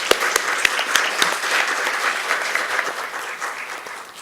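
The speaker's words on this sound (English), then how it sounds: "please give a round of applause to our panelists" Conference audience applauding panelists after a session on sustainable facility management, opening with a few crisp individual claps that swell into a full, even round of clapping from a seated crowd, steady and fairly close.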